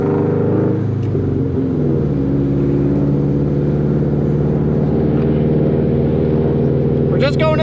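2004 Subaru WRX STI engine running slightly lean while driving to a gas station, a steady loud in-cabin rumble with a gear change early on, mostly uninterrupted.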